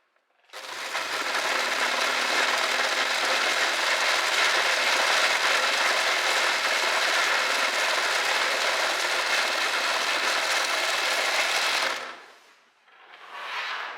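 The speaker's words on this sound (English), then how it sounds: "we're going to overlock this part, and then we're also going to overlock this part" An overlock machine stitches dress fabric in a steady, fast mechanical whir for about eleven seconds, then gives one short second burst after a brief pause.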